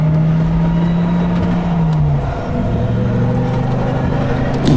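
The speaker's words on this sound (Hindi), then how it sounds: "अब गाड़ी अपने आप चलने लगती है।" A cartoon car starts up and drives off by itself in a haunted-house horror story, with a steady engine drone that shifts pitch as it pulls away, loud and close.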